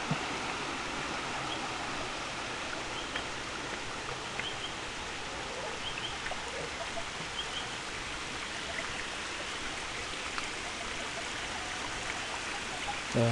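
Water streams steadily down a channel carrying runoff from higher ground, a continuous broadband rush at constant level with faint bird chirps scattered over it and no voices.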